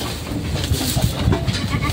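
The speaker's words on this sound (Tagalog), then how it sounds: "Ito po yung mga palaki nila dito, mga kambing." Goats on a farm in Padre Garcia, Batangas bleat repeatedly up close, several overlapping calls over a dense, noisy farmyard background.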